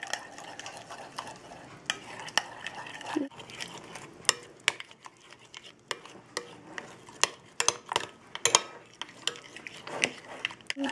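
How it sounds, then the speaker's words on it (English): A spoon stirring a veggie pesto dip in a bowl, giving repeated light clinks and scrapes against the sides in an irregular rhythm, close and fairly quiet with no voices. "mix it up well so you don't see, you know, chunks of the pesto"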